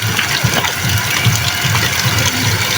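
A water pump runs and gushes water in a continuous, loud, close rush with a faint rhythmic churn underneath.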